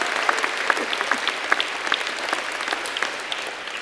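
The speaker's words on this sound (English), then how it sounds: "Let's give them a round of applause." Graduation audience at a university commencement ceremony applauding steadily, a dense wash of many hands clapping at even loudness for several seconds, with no talk over it.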